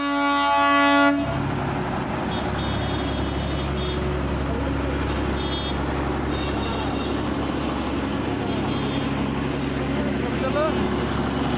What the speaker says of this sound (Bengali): টয় ট্রেনের হুইসেলটাই আলাদা ইমোশন।